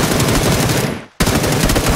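Rapid automatic gunfire in the PUBG video game, a loud continuous burst that cuts out briefly near the middle before resuming at full intensity, with no voices over it.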